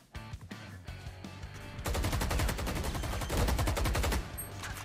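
Rapid gunfire bursts out in the video game Fortnite, starting with a few scattered shots, then becoming a dense, loud, continuous barrage for several seconds before easing off.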